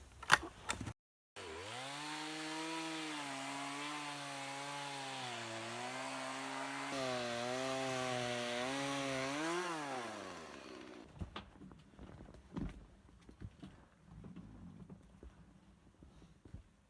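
Chainsaw cutting through firewood, its engine holding a loud, steady harmonic whine that dips and rises under load for about nine seconds, then winds down, leaving light knocks and handling noises.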